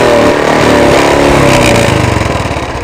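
A Royal Enfield Bullet motorcycle runs with its silencer removed, giving a loud, close, continuous rapid thumping exhaust throb that pulses slightly as the engine idles and revs.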